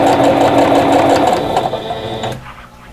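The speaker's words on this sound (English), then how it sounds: "And then just continue stitching." A sewing machine stitches quilt block pieces in a steady, loud, close mechanical whir, running continuously before slowing and stopping near the end.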